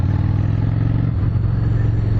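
A 2010 Honda Shadow Phantom motorcycle engine idling, a steady, loud, close low rumble with a slight dip in pitch partway through and no talking.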